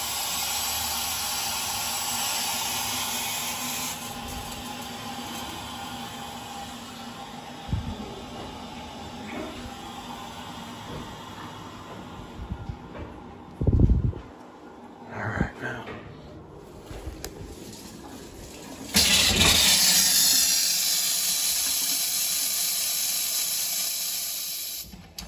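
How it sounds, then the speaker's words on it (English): Water turned back on after a repair to copper domestic supply pipes with pinhole leaks, hissing and sputtering through the line as a steady spray, with a few bumps and knocks midway and a louder gush near the end. "Slowly turn the water back on."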